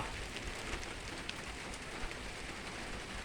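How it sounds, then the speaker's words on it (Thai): Steady rain falls on a surface, a dense, even hiss with faint scattered drops, heard alone without any voices. "ออกมาเบื้องหน้ามันนี่ฝนตก"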